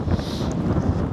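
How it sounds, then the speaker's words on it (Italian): Strong wind on a mountainside at 2000 metres buffets the microphone in a loud, continuous roaring rush with no talking. "C'è un vento, ragazzi, allucinante."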